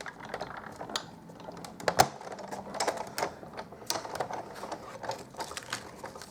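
Cardstock cranked through a manual die-cutting machine at a card-making desk, giving a steady run of dry clicking, ratcheting mechanical clatter with one sharper knock early on, close and fairly quiet, with no talking.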